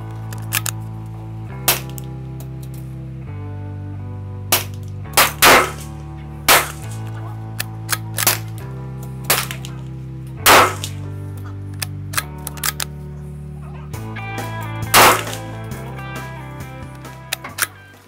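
Rifle shots fired offhand at 200 meters, comparing a Mossberg MVP and a Ruger American Ranch, ring out as sharp separate cracks at irregular intervals over a steady low hum, with no talk.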